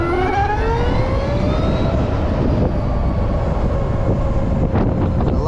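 A Harley-Davidson LiveWire electric motorcycle accelerates on a ride, a rising electric whine climbing in pitch over loud, steady wind rush.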